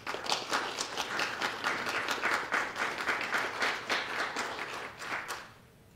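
An audience applauds to welcome Professor Marks at a university talk, steady dense clapping for about five seconds before it fades out at the end.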